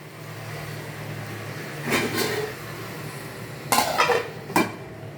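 Metal pot lid set down on a pan of jackfruit curry simmering on low heat: a few close clattering clanks, one early rattle and a pair of later knocks over a steady low background hum.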